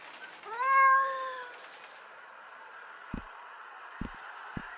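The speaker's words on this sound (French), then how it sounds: "C'est quoi ce chat là?" A cat in the Sally Face video game lets out one loud, drawn-out meow, followed by quiet room tone and a few soft thuds.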